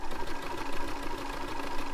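A sewing machine runs a zigzag stitch in a fast, steady mechanical whir with a quick rhythmic needle pulse, loud and close.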